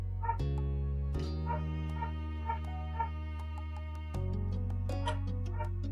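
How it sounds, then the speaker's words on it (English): A neighbour's dog barks in short, sharp yips at midday, repeating irregularly over a steady, loud electronic drone that fills the background. "Don't mind the dog."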